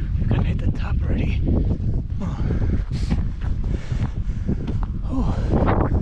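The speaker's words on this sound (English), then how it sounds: "Well, it's windy up here." Gusty wind on a hilltop in Iceland buffets the microphone with a loud, rumbling roar that rises and falls in bursts.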